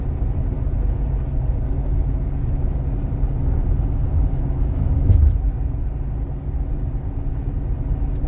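A 2018 Jeep Cherokee with the 2.4-litre four-cylinder engine accelerating on the road, heard from inside as a steady low engine and road rumble with a slight swell midway, no talking.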